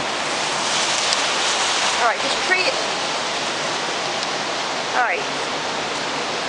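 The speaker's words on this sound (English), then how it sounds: "Now, it's drizzling." Rain falls during a severe New York City thunderstorm, a loud, steady hiss of drops on the street, with a person briefly speaking over it.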